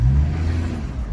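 A car with an automatic transmission fault on the pressure control solenoid valve revs loudly in drive, a low droning engine hum that eases off slightly over about a second, heard close up without talk.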